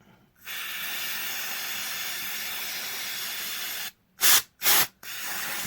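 An aerosol can sprays cleaner onto model train parts in one long, close, steady hiss lasting several seconds, followed by two short sharp bursts and a final spray, with no talk.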